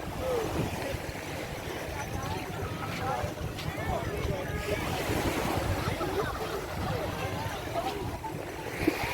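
Steady broadband wash of surf and wind near the shore at Patar Beach, Bolinao, Philippines, continuous throughout, with faint voices and chatter mixed in the background.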